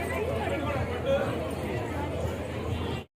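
Crowd hubbub outside Samaleswari temple ahead of the aarti, many overlapping voices forming a steady close babble with occasional louder calls, cutting off abruptly at the end.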